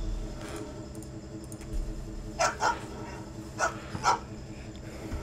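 A dog named Killer in the 1996 PC game Leisure Suit Larry 7: Love for Sail! barks several times, with short sharp woofs in pairs over a low, steady game background and no speech.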